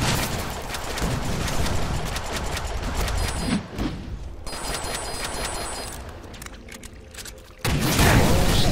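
Grenade explosion in the Deadpool video game, a loud, broad blast among continuous dense gunfire and combat noise, with a second heavy burst near the end.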